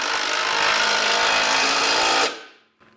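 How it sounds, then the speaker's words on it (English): A power tool whirs continuously for about two seconds while a 3/4 inch socket snugs up a bolt on a Blue Ox base plate kit on a 2021 Ford Escape, then stops abruptly. "We'll snug up the top bolt using a 3/4 inch socket."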